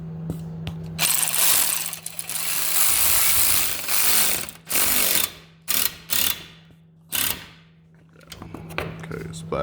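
A ratchet tightens 10 mm bolts on a 2007 Pontiac G6 radiator, giving close, rapid clicking in repeated bursts with short pauses between strokes.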